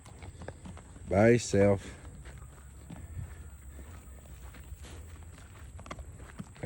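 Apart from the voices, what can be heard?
Missouri Fox Trotter horse hooves clip-clopping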